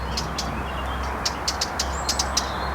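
Faint, brief blackcap chirps repeat irregularly over a steady low outdoor rumble.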